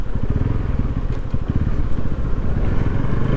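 Engine of a Bajaj NS200 motorcycle labouring up a steep mountain road between Kodaikanal and Munnar, a loud, close, continuous low throbbing with a steady pulsing rhythm and no talk over it.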